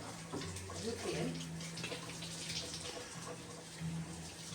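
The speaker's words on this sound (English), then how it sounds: "I'm gonna wash my hands real quick." Tap water runs steadily into a kitchen sink while hands are washed, a continuous soft splashing hiss with a voice faintly in the background.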